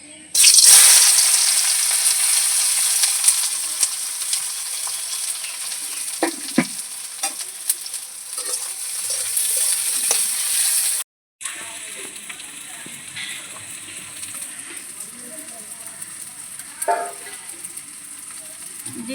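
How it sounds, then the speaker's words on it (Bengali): Onions fry in mustard oil in a wok, a loud continuous sizzle with scraping stirs that drops to a quieter sputter after a brief cut, with no talking over it. "পেঁয়াজটা ভাজবো তার জন্য আমি কড়াইতে তেল দিয়ে দিলাম সর্ষের তেল"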